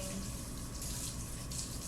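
Water runs steadily from a tap while bread dough is being prepared, a continuous close splashing hiss with no talk over it.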